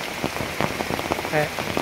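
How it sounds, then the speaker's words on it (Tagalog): Heavy rain pours steadily onto a surface, a dense continuous patter with scattered louder drops close by, and a faint voice briefly audible under the downpour. "Kay ulan namang gyud, kusog kayo ang ulan"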